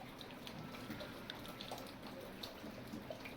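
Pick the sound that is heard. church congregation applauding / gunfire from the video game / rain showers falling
rain showers falling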